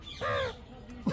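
A pet parrot mimics a crow, giving one short, harsh caw up close, followed by a faint murmur.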